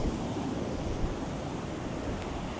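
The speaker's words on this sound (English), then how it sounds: "Look at them waves." Ocean waves at Baker Beach, a continuous low rumbling wash of surf mixed with wind buffeting the microphone, steady and fairly loud throughout.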